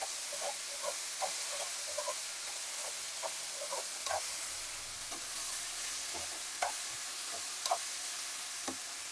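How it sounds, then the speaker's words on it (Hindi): A bean and potato curry with spices sizzles steadily in a hot pan while a spoon stirs it, giving repeated soft scrapes and clicks over a constant frying hiss. "अब अच्छे से मिक्स कर देंगे हम सब्जी को। मसालों के साथ में।"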